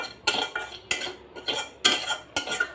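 A metal wok, already used for frying fish, is handled on a kitchen stove with repeated clinks and clatters of metal every half second or so, close by and sharp.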